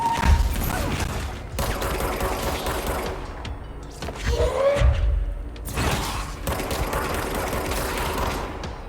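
Rocket launcher fire and blasts thud through a Control gameplay fight, with several loud explosive impacts amid continuous gunfire and rumbling action.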